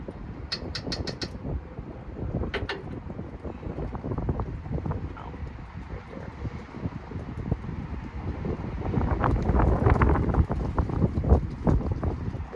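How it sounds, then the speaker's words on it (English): Gusty wind buffets the microphone in rough, rumbling waves, growing stronger toward the end, with a few bird chirps early on. "What's up with all this wind?"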